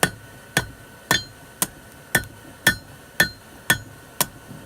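Hammer taps on metal while forming the edges of a hook, nine sharp evenly spaced strikes with a slight ringing clink, close and alone.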